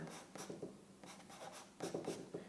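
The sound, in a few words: writing the word art by hand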